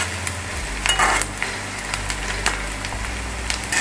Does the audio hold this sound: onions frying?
yes